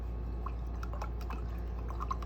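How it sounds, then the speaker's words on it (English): Paintbrush rinsed in a water jar during art journaling, a quiet run of soft sloshing and small drippy splashes with light clinks against the container, close and faint over a steady low hum. "Let's rinse that brush out."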